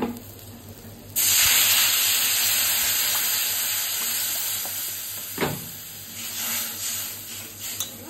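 A sudden loud hiss and sizzle as water hits a hot pan with pickled mango, settling into a steady bubbling sizzle with a few scraping stirs.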